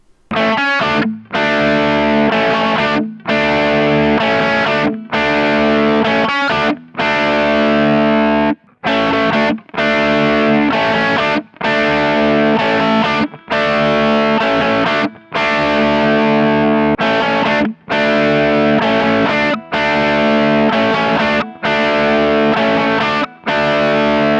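Heavily distorted electric guitar chugs through a driving rhythm riff, loud and sustained, with brief rhythmic stops breaking up the chords.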